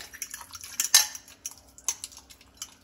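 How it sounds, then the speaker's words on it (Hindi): A spoon whisks curd with salt in a bowl, giving a quick, uneven run of light clinks and taps against the sides, one sharper knock standing out, close and moderately loud. "अच्छी तरह इसको फेंट लेंगे पहले"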